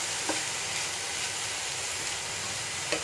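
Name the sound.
stirring ivy gourd stir fry with turmeric in a pan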